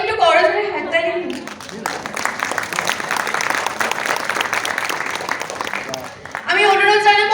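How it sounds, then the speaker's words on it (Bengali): An audience at a Bengali cultural festival event applauds steadily as a director is honoured with a shawl, a sustained wash of clapping bridged by talk before and after. "সকলে একটু করজোড়ে হাততালি।"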